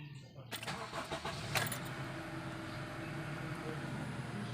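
A car engine cranks briefly and catches, then settles into a steady idle that runs on alone at close range.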